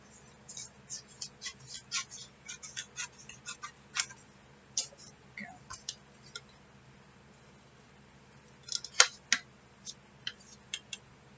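Scissors make small, crisp, irregular snips while trimming paper for a journal craft. The clicks come in quick clusters with short pauses, close and fairly faint against a quiet room.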